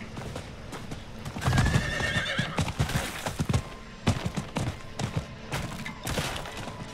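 A horse whinnies loudly in Diablo IV, followed by a run of clip-clopping hooves and thuds, with sharp bursts of game sound effects between them.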